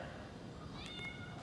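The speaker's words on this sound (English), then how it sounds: "it's the duck trying to be a cat" A duck giving a cat-like meow, a short rising call near the end of the brief moment over low background noise, with faint voices around it.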